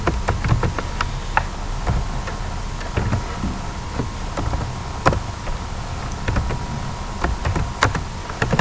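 Computer keyboard typing, irregular clusters of crisp key clicks at close range, steady throughout with no talk.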